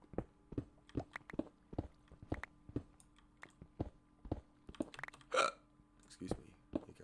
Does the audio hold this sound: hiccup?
yes